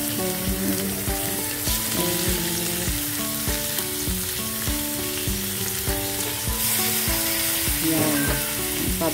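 Milkfish laid into a hot pan of oil for paksiw na bangus, setting off a loud, steady sizzle and crackle of frying that holds strong throughout, with occasional stirring clicks.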